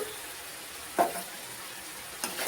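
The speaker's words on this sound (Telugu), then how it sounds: "ఆ పొడి వేసుకొని బాగా ఫ్రై చేసుకోవాలి." Ground coriander powder frying in hot oil with masala, a soft steady sizzle broken by two brief stirring scrapes, close and fairly quiet.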